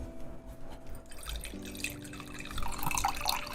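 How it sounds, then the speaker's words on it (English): Water runs from a kitchen tap into a glass, a steady trickling and splashing stream heard at moderate distance that grows louder toward the end, with no talk. "I need to go pour myself some water real quick."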